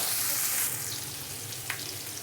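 Onions sautéing in oil in a pan for a cabbage and moong dal kootu, giving a steady, close hiss of frying with a light stir and scrape near the end.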